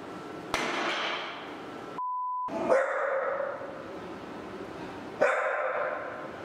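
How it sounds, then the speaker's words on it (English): A dog barks a few times, sharp separate barks spaced out over several seconds, fairly close, with a brief electronic tone in between. "What are we barking at?"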